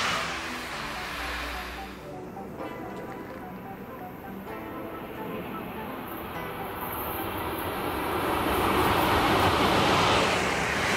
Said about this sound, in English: Electric locomotive.